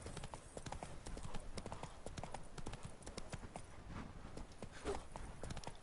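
Rhythmic clip-clop of horse hooves during riding in The Witcher 3: Wild Hunt, a quick steady gait with faint background ambience and no talking.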